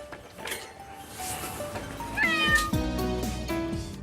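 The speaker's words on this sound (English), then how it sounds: "puts the cat in a cage in his van" A stray cat in a cage inside an SPCA inspector's van meows loudly and insistently, several drawn-out, wavering cries close by with no talking over them.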